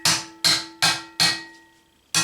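Hammer blows on steel over a handmade steel anvil: four quick bright strikes in steady rhythm, a brief pause, then a fifth, each with a sustained ringing overtone, near and without talk.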